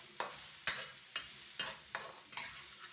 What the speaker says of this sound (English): you could keep stir frying like I'm doing for a while